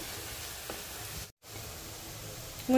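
Chicken pieces are dropped into hot oil and fry with a steady, close hiss, broken by a brief silent gap midway and a sharper sizzle burst at the end.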